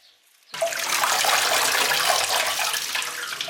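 A strong gush of tap water starts abruptly and runs on steadily while lettuce is rinsed clean, loud and close.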